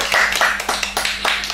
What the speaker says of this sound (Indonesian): Kita tepuk tangan dulu dong buat Rangga.